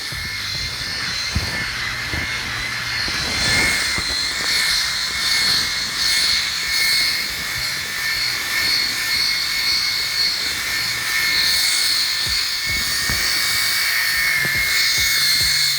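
Brio Raze electric head shaver buzzing continuously during a head shave, a steady high whine with rough rasping texture and a few soft bumps, close and alone.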